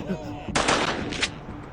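Two gunshots fired at Grandpa in the horror video game Granny 2, sharp bursts close together, loud and near against faint game ambience.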